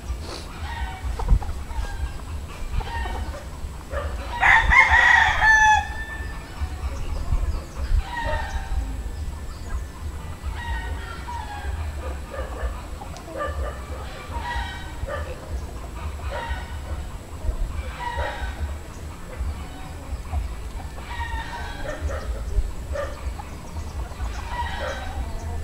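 Backyard chickens kept for breeding, with a rooster crowing loudly once early on and scattered fainter clucks and crows continuing over a steady low background hum.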